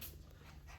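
Dog panting softly, quick faint breaths with a slight whimpering edge, close but quiet.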